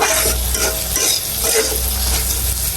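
Chili, turmeric, sauce, cumin and garlic paste frying in hot oil, with a loud continuous sizzle and repeated stirring strokes close by.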